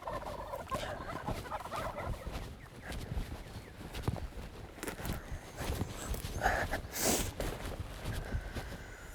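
Wild turkeys call during a spring turkey hunt, with scattered gobbles and clucks at moderate distance over rustling steps through leaves and brush outdoors.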